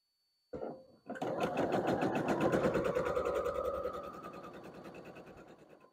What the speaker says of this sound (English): we are going to sew at a diagonal going this way